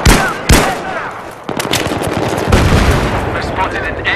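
Rapid machine gun bursts from the video game Battlefield 3, loud and close, with sharp repeated shots over a dense battlefield din and brief pauses between volleys.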